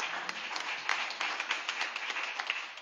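A church congregation claps together in a steady, moderately loud round of applause with no voices on top, the individual claps blurring into an even patter.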